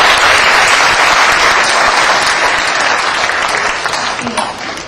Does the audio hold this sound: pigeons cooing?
no